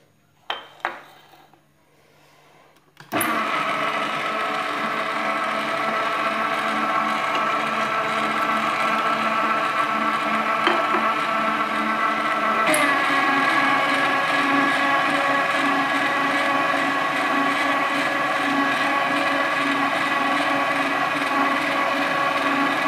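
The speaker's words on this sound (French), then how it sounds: "je vais commencer par mélanger et ajouter l'eau petit à petit" A stand mixer kneads pizza dough for a cream and merguez pizza while water is poured in little by little, starting abruptly and running as a steady, loud motor whir with faint clinking from the bowl.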